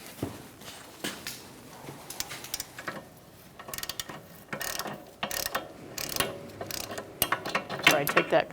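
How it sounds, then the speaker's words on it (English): A ratchet with a 13mm socket on an extension clicks in quick repeated bursts while removing the rear brake bracket bolts on a 2012-2018 Ford Focus, the pawl's rapid ticking close and fairly quiet with pauses between strokes. "Using a 13mm socket and an extension, we're going to go through this access hole and take off the 2 bolts for the bracket."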